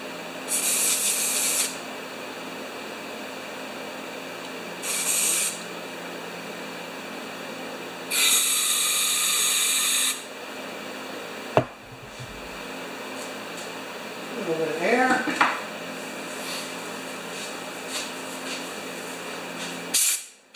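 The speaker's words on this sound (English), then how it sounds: "I like that white silicone spray. it's ugly when you put it on, right?" White silicone spray hisses from an aerosol can in three short bursts onto a Yard Works mower part, close and fairly loud, followed by a sharp click and quieter clattering and rattling from handling the part.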